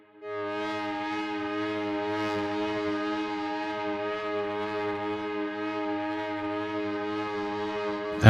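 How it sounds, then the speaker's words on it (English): A sustained synth drone is pushed through Ableton's Saturn 2 saturation while its drive knob is turned, a steady harmonic-rich tone holding evenly for about eight seconds and then swelling up sharply at the very end. "And you can listen when I adjust the drive knob here."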